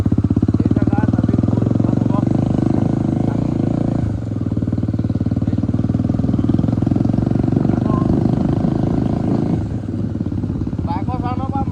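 A Bajaj Dominar 250 motorcycle with an open exhaust rides on, its loud, steady, rapid engine drone close by, with a rider's voice talking over it throughout.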